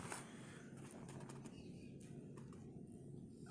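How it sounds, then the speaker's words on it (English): Birds call outdoors, faint and distant, with soft cooing and scattered chirps drifting in over low background noise and no voices. "I just heard some pretty birds chirping."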